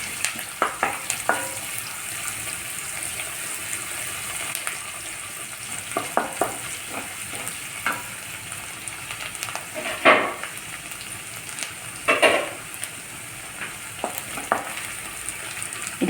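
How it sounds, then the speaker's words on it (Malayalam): Shallots and garlic fry in oil for a raw banana thoran, a soft steady crackling sizzle running throughout, with scattered spoon scrapes and clinks against the pan, close by and without voices. "ചുമന്നുള്ളിയും അതുപോലെ തന്നെ കുറച്ച് വെളുത്തുള്ളിയും മൂപ്പിക്കാനായിട്ട് ഞാൻ ഇട്ട് കൊടുക്കുന്നുണ്ട്"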